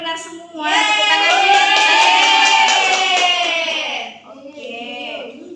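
Schoolchildren in a classroom clap their hands in rhythm while chanting together in unison, their voices loud and close, then stopping and resuming more quietly.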